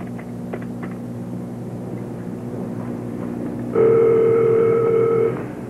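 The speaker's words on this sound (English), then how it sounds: "I think I might just give this lovely lady a call." A telephone is readied for a call: after a quiet murmuring background, a steady loud dial tone sounds alone for almost two seconds, then stops.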